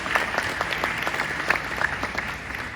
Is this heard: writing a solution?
no